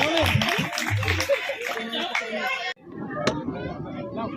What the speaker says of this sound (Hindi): इनके लिए जोड़ा तालियां पूरी टीम के लिए